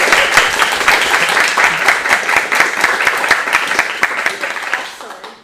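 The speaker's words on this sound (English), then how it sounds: "Clap." An audience claps together after a question-and-answer session at a game development meetup, a steady dense patter of many hands that tapers off toward the end.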